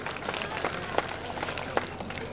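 Applause for a prize-winning student called on stage at a school Republic Day prize distribution, a steady patter of clapping from a crowd with a few sharper claps standing out.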